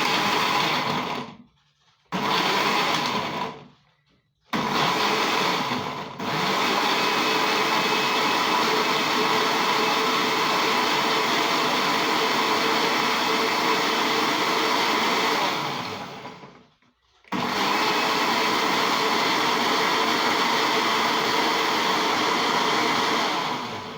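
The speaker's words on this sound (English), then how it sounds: "cover my blender and start the blending process." A blender blending spinach juice whirs loudly and steadily, its motor cutting out briefly a few times before starting up again, with no talking.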